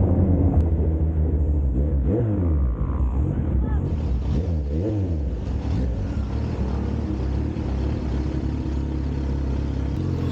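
Kawasaki ZH2 motorcycle engine accelerating hard in first gear along a long straight road, a steady loud roar with rising and falling pitch sweeps as it revs up, with wind noise and someone talking over it.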